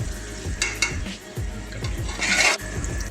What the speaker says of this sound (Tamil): நல்லா இஞ்சி பூண்டு போட்டிருக்கோம், அப்பப்போ அடி பிடிச்சிக்கும். அது கிண்டிக்கினே இருக்கணும்.